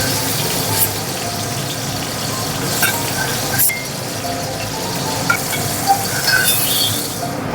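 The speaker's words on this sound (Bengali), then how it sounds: "তেলের মধ্যে দেব এই যে কালো জিরে আর কাঁচা লঙ্কা ফোড়ন" Steady crackling sizzle of hot oil with nigella seeds and green chillies popping, plus occasional light clinks of a utensil; no talking.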